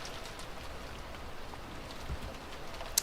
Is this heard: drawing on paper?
no